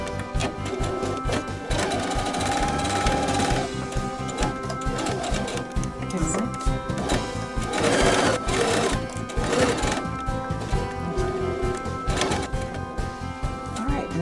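A sewing machine runs while stitching a tote bag, a close, continuous mechanical whir with uneven surges over a busy background.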